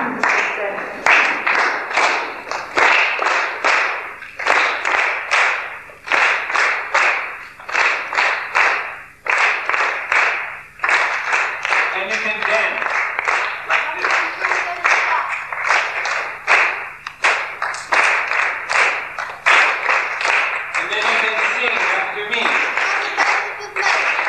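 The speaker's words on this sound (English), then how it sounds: "you can all clap your hands like this" A gathered group claps hands in a steady, loud rhythm, sharp beats repeating throughout while voices chant along.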